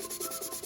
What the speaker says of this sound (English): Sanding it a little bit more.